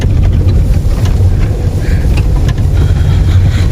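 A car rolling along a rough village road near Pryozerne, a loud, steady rumble of engine, tyres and wind buffeting filling the whole stretch without voices.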